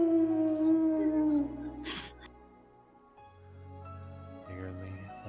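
A wounded wolf-like creature in a fantasy roleplay game lets out a drawn-out, wavering whine that slides downward and fades, then a softer, lower whimper follows near the end.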